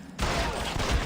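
A burst of gunfire in the crime video game L.A. Noire erupts loudly after a short quiet lead-in, a dense rapid crackle of shots filling the rest of the moment with no talk over it.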